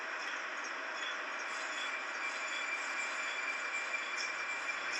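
A Moscow Metro train pulls into a station with a steady, loud rolling roar and a faint high squeal, the sound of wheels on track, holding constant throughout with a low hum entering near the end.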